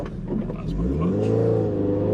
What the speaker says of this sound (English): Reverse wheel spin.